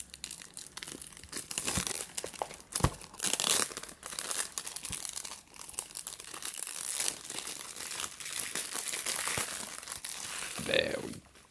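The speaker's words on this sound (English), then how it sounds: "We can crack into this by hand." A cardboard booster box for a My Little Pony card game is torn open by hand, with close crinkling, crackling and ripping of the packaging in bursts and a short faint rip at the end.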